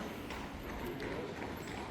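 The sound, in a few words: horse-drawn fiacre carriage, horses clip-clopping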